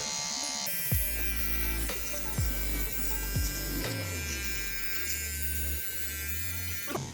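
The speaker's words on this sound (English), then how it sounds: "I'm gonna go in there with a little trimmer. Get those pesky little neck hairs from under there." An electric beard trimmer hums steadily while trimming neck hairs, its buzzing motor running close and continuous with small shifts in pitch as it moves across the skin.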